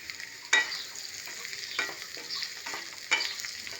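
Onion, green chilli, carrot and potato fry in a pan with a soft, constant sizzle. A spatula scrapes and stirs at intervals, and the cooking stays quiet and close with no talk.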